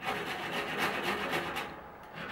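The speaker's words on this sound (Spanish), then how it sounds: "Siempre que voy a soldar, voy a limpiar con una lima para que tenga mejor agarre." Metal joints for a hanging ceiling lamp are filed by hand before soldering: quick, regular rasping strokes, about three per second, close and steady throughout.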